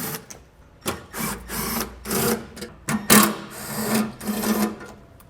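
A T25 Torx bit driver backing out fasteners along the middle of a vehicle during a hidden hitch receiver install, heard as several short bursts of whirring driver spin separated by brief pauses and clicks, close and loud.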